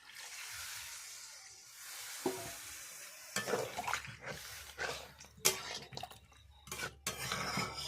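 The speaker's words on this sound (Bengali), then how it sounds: "এবারে ওর মধ্যে আমি অল্পই জল দেব মাংস কষা বানাবো তার জন্য আমি বেশি জল দেবো না অল্প জল দিচ্ছি" A little water poured into village-style chicken kosha simmering in a pan, a soft splashing pour giving way to sizzling, clinks and stirring scrapes, no talk.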